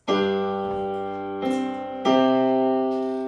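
A sustained piano-like chord rings out, then shifts as new chords strike in early, each change arriving slightly ahead of the beat as an anticipation note; no voices.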